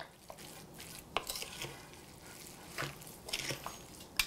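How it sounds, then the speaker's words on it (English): Pie filling being stirred in a bowl, with soft scraping swishes under a quiet background and several sharper clinks of the utensil against the bowl. "now I'm just gonna stir this all together and get it nice and combined"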